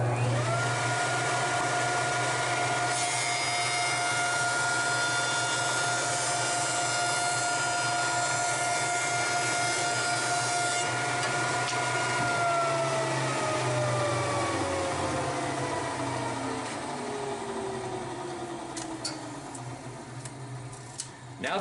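Woodworking machine making one slow cleanup pass along a board edge while building molding for a mini chest, a loud sustained whine and roar with a steady tone that slowly falls and eases off toward the end.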